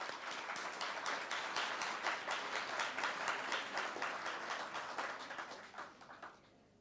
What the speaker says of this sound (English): Let's give them a final applause.